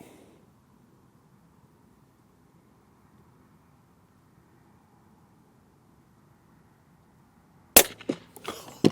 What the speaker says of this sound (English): Let's go for the next shot.